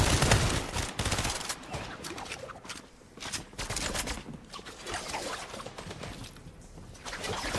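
Rapid automatic gunfire sprays at an opponent in the video game Fortnite, dense bursts of shots rattling almost continuously through the clip, loud and close.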